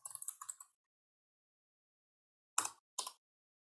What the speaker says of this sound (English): I'm using my keyboard, so I'm easily able to correct typos as I go.